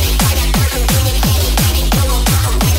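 Chopped, distorted, formant-shifted vocal stutters over a heavy beat in a hyperpop track: pounding kicks about twice a second with a thick bass, each hit followed by a clipped, gritty vocal slice, loud and relentless.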